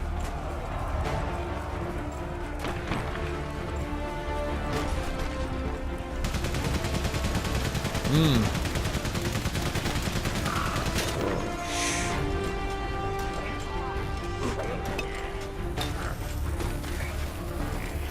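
Rapid, continuous machine gun fire during an allied charge in Valiant Hearts, a steady mechanical rattle running throughout at even loudness, with creaking and clanking mechanisms mixed in.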